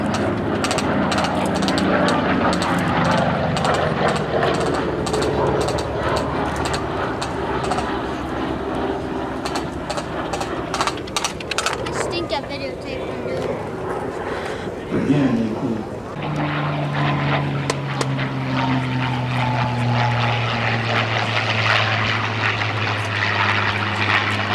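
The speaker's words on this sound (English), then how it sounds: "listen to the bearing sound, the very muffled sound of the P38 with those turrets." Engines of a Lockheed P-38 fighter, muffled by turbochargers, fill the clip with a loud, continuous droning propeller roar that shifts pitch toward the end, with a voice talking over it.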